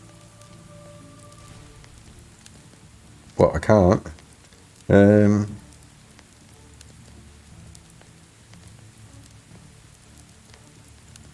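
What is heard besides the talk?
rain falling in the video game Medieval Dynasty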